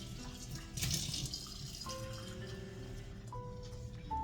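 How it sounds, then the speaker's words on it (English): Tap water runs from a kitchen faucet into a measuring cup while preparing apple strudel filling, a soft continuous splash with faint background tones. "I'm going to probably start out with a half a cup of water just out of your faucet."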